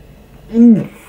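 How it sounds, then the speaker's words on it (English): A single short, loud, voiced burp, one deep guttural belch lasting about a quarter second, close up and alone. "sick burp"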